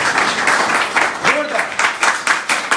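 An audience at a direct-selling business seminar breaks into applause, clapping that swells in uneven bursts, with a voice briefly rising over it.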